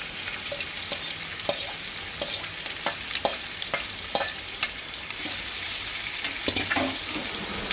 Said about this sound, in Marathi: आता तो तळशीत रावपाक जाय